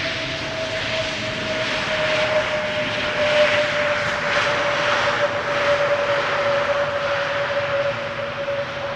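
A year-old Airbus A321neo passes on arrival at Amsterdam Schiphol, a broad continuous engine roar with a steady whining tone, loud and sustained throughout with no voices.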